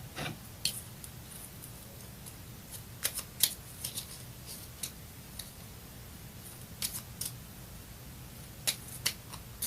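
A deck of cards is handled and a destiny card is drawn from the shuffled pack. Soft riffles, light snaps and scattered taps sound over a quiet background hiss, close but faint, with no talk.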